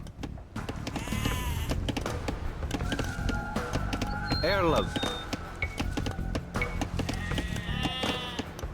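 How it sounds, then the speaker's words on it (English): Sheep bleat repeatedly in the Age of Empires II video game, their calls layered over a steady game soundscape with thuds and other effects while a voice speaks briefly. "villagers can herd sheep or hunt deer for food"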